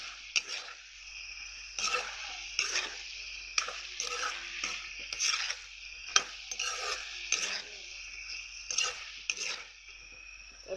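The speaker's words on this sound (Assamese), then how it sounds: "হালধি আৰু নিমখটো ভালকৈ মই মিক্স হোৱালৈকে লৰাই থাকিম" Pork seasoned with turmeric and salt being stirred in a pot, a spoon scraping and clattering against the metal in repeated close strokes with a light sizzle beneath, no voices.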